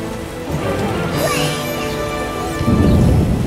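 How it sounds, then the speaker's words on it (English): Heavy rain pours down in a video game, a dense steady hiss of drops pattering on surfaces that thickens toward the end, loud and continuous with no speech. "A real downpour."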